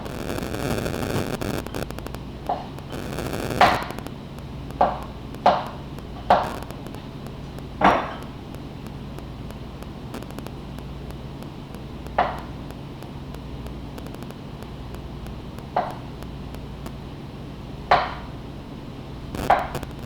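Knife chopping ingredients for avocado salsa with tomatoes on a cutting board, about a dozen sharp, distinct chops spaced irregularly over a steady low background hiss.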